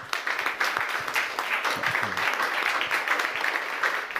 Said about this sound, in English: Let's applaud all Michael.